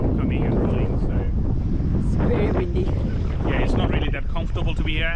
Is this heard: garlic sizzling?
no